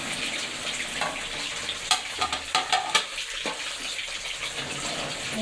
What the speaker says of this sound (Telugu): ఎలాగైతే డీప్ ఫ్రై చేసేసుకోవాలి ఎగ్ ముక్కలు